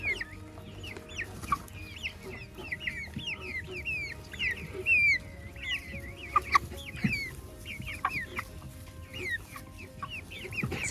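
Newly hatched quail chicks of many colours peep constantly and close up, a dense chorus of high, rising cheeps overlapping one another for the whole stretch.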